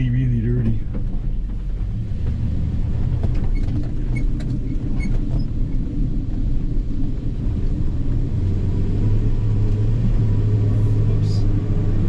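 A 1979 Dodge Stepside truck drives on back roads, its engine giving a loud, steady low rumble that builds slightly as it gains speed, with road noise throughout.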